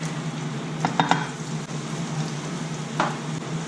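Garlic frying in leftover salmon oil in a pan, a steady soft sizzle with a few clinks of a utensil stirring against the pan.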